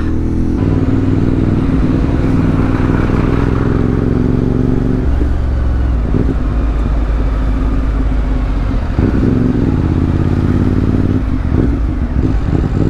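A CFmoto 450MT big-bike motorcycle rides along a road in Benguet Province at night, its engine droning loud and steady with slight shifts in revs and wind rush throughout.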